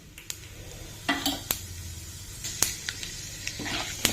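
Tempering seeds hit hot oil in a pan for a green onion egg curry, a quiet steady sizzle broken by sharp pops and crackles as the seeds splutter, with a few scraping stirs and no talking.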